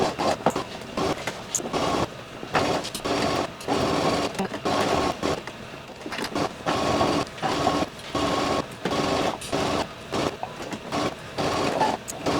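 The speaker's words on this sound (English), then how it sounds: "we're going to take these to our sewing machine and we're going to sew at a 3/8 seam allowance" A sewing machine runs in rapid, rattling bursts, stitching a shirt's fabric at a 3/8 seam allowance in stops and starts, loud and close throughout.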